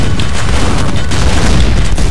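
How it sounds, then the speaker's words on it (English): A nailgun in Quake fires at ogres in a loud, continuous barrage, dense rapid thuds and impacts blending into a sustained roar with no pauses. "This is better to take them out with the nails"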